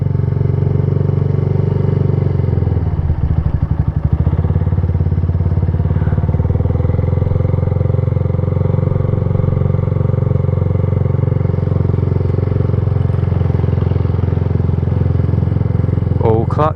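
A motorcycle ridden at slow speed on the clutch, with no rear brake, gives a steady low engine drone, loud and close, with a brief rough clatter near the start and someone talking over it.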